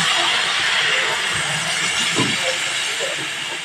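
Water poured into a hot pan of shrimp and Malabar spinach curry makes a steady loud hiss and bubbling sizzle that fades slightly at the end.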